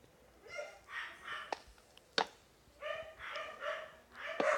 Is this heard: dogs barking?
yes